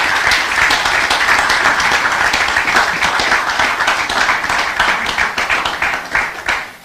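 A full audience claps loudly and steadily for nearly seven seconds at a territorial address ceremony, a dense, continuous roar of hands that eases slightly at the end, with no talking over it.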